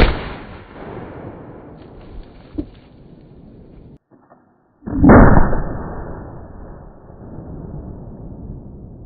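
A .577 Martini-Henry rifle fires a single loud, close shot at a soft body armor target about 25 yards away, a sharp blast with a rumbling tail after a quiet pause.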